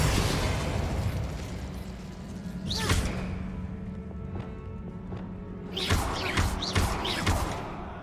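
A Confringo blast spell in Hogwarts Legacy goes off as a burst of crackling explosions, with a dense rumbling game backdrop and sharp pops near the start and again in a cluster toward the end.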